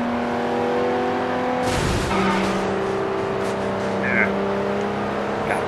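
A car races at speed in Sleeping Dogs, its engine droning with a steady high whine that shifts pitch as it revs and changes gear, with a brief whoosh of passing traffic midway.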